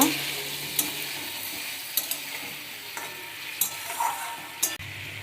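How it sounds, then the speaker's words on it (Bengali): Fried eggplant pieces being stirred through a mustard-paste gravy in a pan, a low bubbling simmer punctuated by several sharp spoon scrapes and clacks at irregular intervals, close and moderately quiet, with no talking. "এবার ভালো করে নাড়াচাড়া করে নেব"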